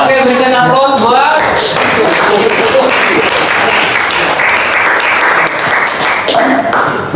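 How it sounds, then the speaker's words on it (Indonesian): A class of students claps in a classroom lesson, a loud, steady round of applause that carries on for several seconds after a teacher's brief speech. "Oke, berikan aplaus buat."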